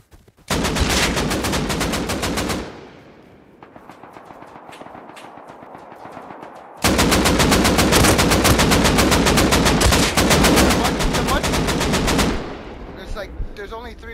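Loud, dense bursts of automatic AK rifle fire in the survival game Rust, two long sustained volleys separated by a quieter stretch with scattered single shots, close and dominant.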